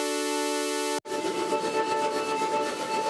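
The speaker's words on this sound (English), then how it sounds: "I'm going to be using the Drone Boy in my Game Boy and running it through Lossy" A harsh, buzzing square-wave drone from a Game Boy cuts off, then returns through a lo-fi effect as a gritty, crackling hum with a steady tone underneath.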